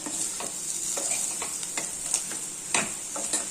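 Chicken fry sprinkled with coriander is stirred in a hot pan, a steady close sizzle with soft scraping strokes of the spoon every fraction of a second.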